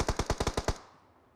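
Video game gunfire: a quick burst of about seven rapid automatic shots, loud and close, followed by a fading echo.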